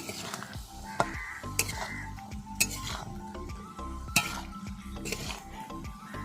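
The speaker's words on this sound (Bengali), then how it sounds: "তো এই পর্যায়ে লাউগুলো দিয়ে দেব। এবার কিছুক্ষণ কষিয়ে নেব।" Diced bottle gourd is stir-fried in a pan, with clinking metal spatula strikes and scrapes against the pan at an irregular rhythm over a low sizzle.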